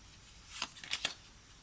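A deck of tarot cards is cut and shuffled close by, giving a few quick, crisp riffling bursts over a quiet background.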